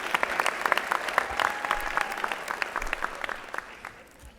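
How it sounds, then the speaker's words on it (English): Scattered applause from a crowd, individual claps audible in an uneven patter that gradually thins and fades toward the end. "please give yourselves a round of applause for making it this far."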